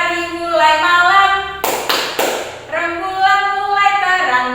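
Rhythmic hand claps from a night-clap (tepuk malam) clapping game, a quick burst of three sharp claps in the middle with singing voices before and after.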